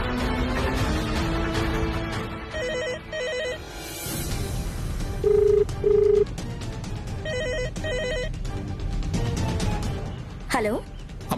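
A telephone rings on a landline call, its repeated electronic ring in short double bursts over a steady bed of television-drama background music.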